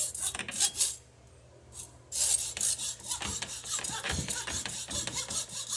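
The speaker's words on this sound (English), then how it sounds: "this is about the best way to cut a wire" A hacksaw cuts rigging wire clamped tight in a block, loud rasping back-and-forth strokes with a brief pause before the sawing resumes steadily.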